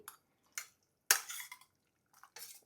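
A spoon scraping and clinking in a pan while Malabar spinach curry is stirred, a few short separate metallic scrapes and knocks, close and fairly quiet, no talking.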